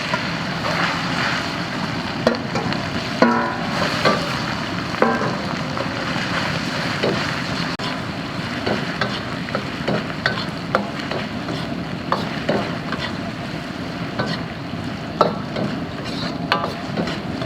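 Pork belly hits a hot wok with rendered fat and caramelized rock sugar and is stir-fried, a continuous close sizzle with scattered scraping clatter of the spatula throughout.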